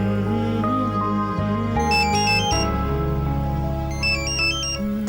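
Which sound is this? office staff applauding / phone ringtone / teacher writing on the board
phone ringtone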